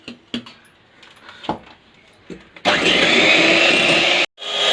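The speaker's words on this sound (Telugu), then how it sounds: "పౌడర్ని ఇలా కొద్దిగా ఈ విప్పింగ్ క్రీమ్లో వేస్తూ మనం బ్లెండ్ చేసుకోవాలి" An electric blender whips sugar powder into whipping cream: a few small clinks and taps come first, then the motor starts with a loud, steady whir, cuts out briefly near the end and restarts.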